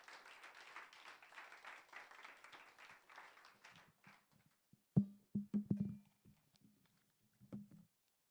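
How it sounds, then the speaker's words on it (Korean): An audience at a church youth Wednesday prayer meeting claps in welcome of a speaker, a soft, steady patter of applause that fades out, followed by a few scattered thumps and quiet movement. "하나님께 감사하는 마음으로 박수로 모시겠습니다"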